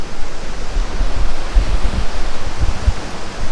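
Steady broadband rush of a waterfall inside Gupteshwor Mahadev Cave in Pokhara, a continuous roar with low rumbling surges, no voices present.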